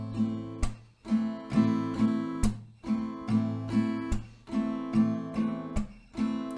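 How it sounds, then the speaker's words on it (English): Acoustic guitar plays a repeating down-up strumming pattern with a percussive slap on the strings in place of the third stroke, steady and close, about eight rounds in a quiet room. "down, up, clap, up, down, up, clap, up"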